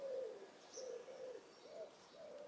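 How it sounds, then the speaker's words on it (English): Pigeons coo in a garden, a soft repeated series of low, rounded calls at an easy rhythm, faint and somewhat distant against a quiet outdoor background. "They're just pigeons though."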